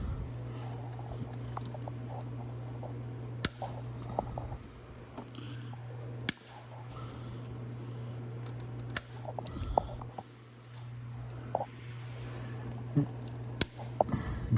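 Scissors snip zip ties on a Venom E-Grizzly 1500W electric ATV, several sharp isolated clicks spread out over a low steady hum and faint handling noise.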